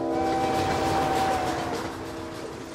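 A cartoon train runs along the tracks with a continuous rumbling clatter and a sustained tonal hum, loud at first and then easing off slightly toward the end.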